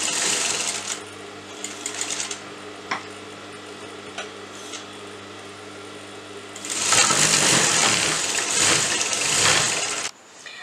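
Sewing machine stitching a fabric cuff sleeve: an idling hum with a few short ticks, then a loud, fast run of stitching that stops abruptly.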